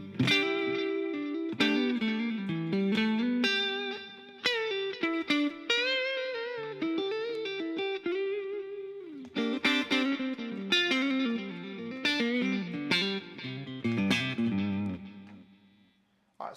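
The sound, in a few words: electric guitar through generic delay pedal with reverb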